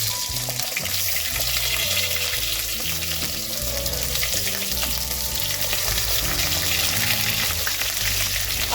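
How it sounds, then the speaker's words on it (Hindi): Eggplant frying over a low flame in a pan of sizzling spices gives a steady, close hiss with a low hum and occasional faint clinks, with no speech. "अब मैं इसमें बैंगन डाल के फ्राई करूंगी"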